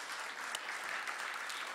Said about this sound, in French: j'aimerais qu'on applaudisse tous nos lauréats de ce soir